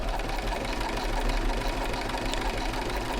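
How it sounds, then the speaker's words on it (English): A sewing machine stitches steadily into fabric while sewing a circular design, a loud, close, continuous mechanical whir with a fast regular needle rhythm and no talk. "I'm going to stitch down and I'm going to stitch into my fabric for 3 mil, so then I can pivot and come back down"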